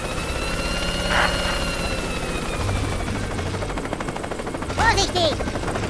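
A helicopter whirs in the Worms W.M.D. video game: a steady rotor drone with pulsing chop, loud and close, while brief weapon-like cracks and game effects burst near the end.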